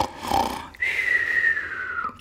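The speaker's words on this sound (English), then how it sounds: "He just kept on snoring." A sleeping man snoring, a short inhaled snort followed by a long, whistling, wheezy breath, close and fairly loud, with no other voices.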